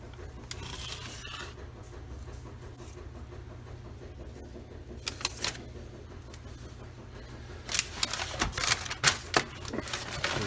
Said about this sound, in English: Cut a little bit off of here.